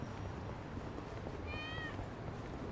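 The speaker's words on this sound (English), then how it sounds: "I heard a cat." A single short meow from a cat in the video game Yakuza: Like A Dragon, faint and brief over a low steady game ambience.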